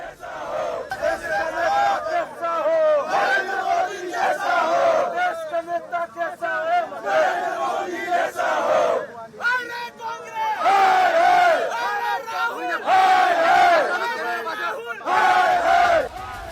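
An angry crowd of political protesters shouts slogans in unison while burning an effigy of Rahul Gandhi. Rhythmic chanting voices rise and fall in loud, ragged bursts, close and dense throughout.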